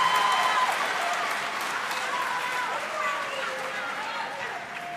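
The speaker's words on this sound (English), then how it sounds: "Please give them another round of applause for their accomplishments and their remarks." Applause from the audience at a 2009 high school commencement ceremony, a steady broadband clapping that fills the space loudly at first and then eases slightly, with a few voices audible underneath.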